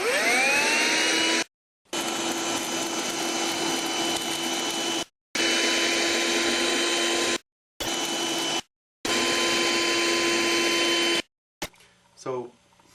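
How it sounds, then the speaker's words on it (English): A school janitor's vacuum cleaner sucks in Sandman during a Spider-Man fight scene: a loud, steady roaring whine with a high tone, broken by several abrupt cuts, then a short burst of voice at the end. "he turned on the school janitor's vacuum cleaner and sucked him in"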